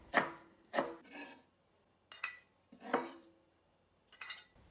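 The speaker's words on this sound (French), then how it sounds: "Hachez finement les herbes." A knife finely chops herbs such as dill and parsley on a board in a series of separated bursts of quick scraping cuts with short pauses between, close and moderately quiet with no talking.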